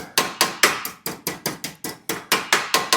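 Hammer blows ring out against a steel floor pan from a 1941 Mercury held on a solid buck, about a dozen sharp, evenly spaced strikes in steady rhythm, close and loud with no talk.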